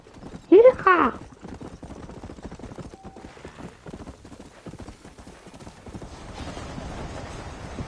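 Horse hooves clip-clop in a Red Dead Redemption western town, a steady close trotting rhythm that follows a sharp whinny and continues beneath a man's speech.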